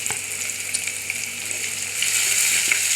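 Chopped onions frying in a pan for a freshwater fish curry, a steady close sizzle and crackle that grows a little louder toward the end, with no talking.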